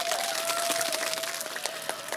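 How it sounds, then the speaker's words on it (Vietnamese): Congregation applauding at a live acoustic hymn session, a soft, steady wash of many hands clapping at a distance, with a faint sustained tone underneath. "cộng đoàn chúng ta cùng nổ một tràng vỗ tay thật lớn để chúc mừng ạ"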